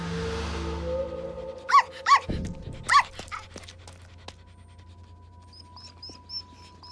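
A dog gives a few short, sharp barks and yips, three distinct bursts spaced about a second apart, standing out against a quiet backdrop with a low hum and faint high chirps.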